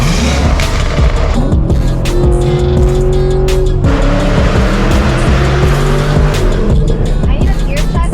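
The straight-piped engine of a Chevrolet Camaro SS revs loud and close, a continuous raw roar that climbs and drops through the gears with a brief break midway.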